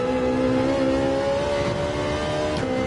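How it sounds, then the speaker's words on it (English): A Ferrari engine revving hard in fifth gear in Gran Turismo 7, a loud steady high-pitched whine climbing gently, with a quick dip at a shift near the end. "Rev out that 5th gear in the Ferrari."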